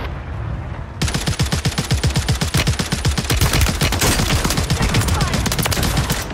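Dense, rapid gunfire in Call of Duty on Rebirth Island, starting abruptly after a quiet second and continuing as loud, overlapping bursts and fast-repeating shots throughout.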